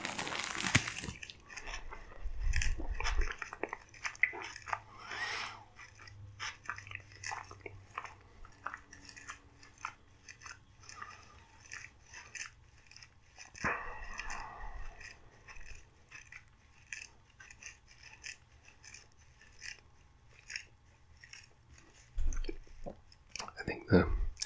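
Crunchy chewing of Taco Bell food with soft beans and crunchy onions, close and intimate, with repeated crisp crackling bites and wet mouth sounds over a long stretch; a mustache brushing against a mask adds scratchy noise, and soft talk comes and goes.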